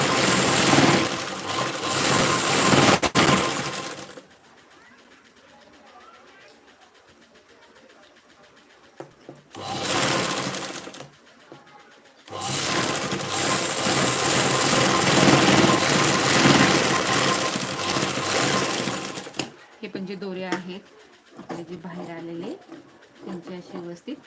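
A sewing machine stitches a seam on a princess-cut blouse in loud, steady whirring runs separated by quiet pauses, and a voice talks briefly near the end.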